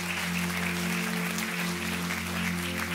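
A church congregation applauds loudly after a sermon, a steady wash of clapping over a constant low hum.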